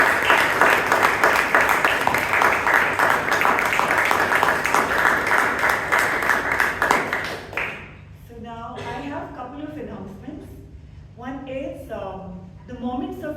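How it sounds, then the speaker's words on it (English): Audience applause fills a Toastmasters club meeting in Bangalore, dense sustained clapping from many hands for about seven seconds before it stops abruptly and voices talk over a quieter room. "Can we have a big round of applause once again for all the role takers?"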